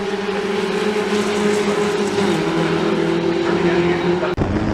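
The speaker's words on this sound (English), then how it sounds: "Great battle between the two Eldon Mark 8s here." Eldon Mark 8 historic Formula Ford race cars battle at Oulton Park, a steady droning engine note held throughout as the cars run together, loud and continuous, with a brief dropout near the end.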